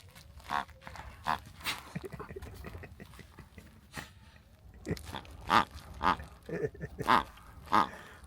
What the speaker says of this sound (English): Just thought I'd share Ellie's honky pig.